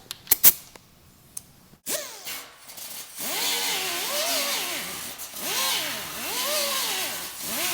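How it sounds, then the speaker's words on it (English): A grinder removing coating from car body metal around a dent, starting with a few clicks and handling knocks, then a sustained whining grind that rises and falls as pressure on the panel shifts, close and loud. "I'm going to get that with the grinder to help get that out, just as little grinding as possible."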